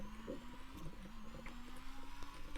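Steady car engine hum from a driving car in the video game Shakedown, a low droning tone holding at a constant pitch throughout, fairly quiet and alone with no talk over it.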